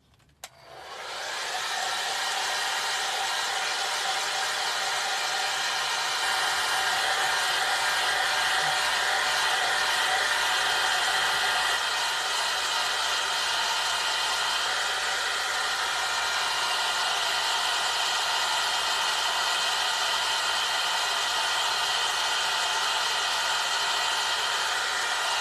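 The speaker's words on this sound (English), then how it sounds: "Let's hit it a little bit with a dryer." An electric hair dryer blows on a wet candle-vase craft project, switching on and then running as a loud, steady whirring hiss close by for a long stretch, no talking over it.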